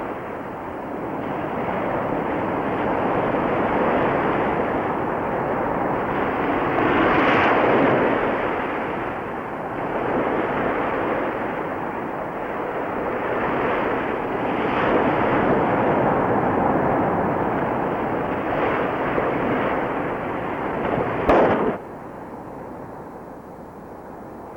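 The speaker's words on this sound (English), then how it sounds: "They must have the biggest bangers in the world down here" Very loud firecrackers explode in a village, heavy booming blasts rolling and reverberating over a dense, continuous roar, with one sharp bang standing out near the end.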